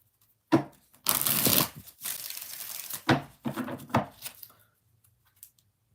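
A deck of cards is shuffled several times for a mini tarot-style reading, crisp riffling bursts in a run of close, papery flutters separated by brief pauses.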